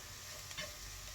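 Onion and chicken gizzard fry in a pan with a soft, continuous sizzle and a brief stirring scrape, faint and close with no voices.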